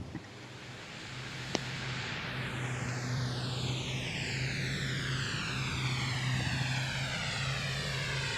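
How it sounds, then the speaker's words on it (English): A C-20J jet takes off from runway 33 at an air show, its engine roar swelling and holding loud and steady as it climbs away, with a falling whine over a constant low drone. "Beautiful 45-degree takeoff from runway 33 on the C-20J."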